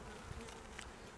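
A soft, steady buzz of many honey bees humming together inside a hive, faint and close, with no voices.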